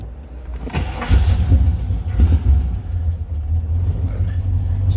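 A 1964 Chevrolet Chevelle Malibu convertible, restored, cranks briefly and its engine catches, settling into a steady, loud, close-up idle rumble with a few revving swells.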